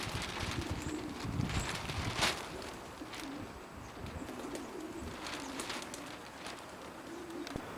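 Racing pigeons coo softly in a loft in Hull, East Yorkshire, a low continuous murmur of many birds with occasional wing flutters and clatters, all within a dense, busy room ambience.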